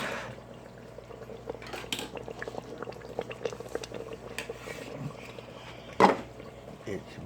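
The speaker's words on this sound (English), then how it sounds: "It's bubbling." Food bubbles in a pot on a kitchen stove during supper preparation, steady soft popping and gurgling, with a clink of cookware near the end and faint background voices.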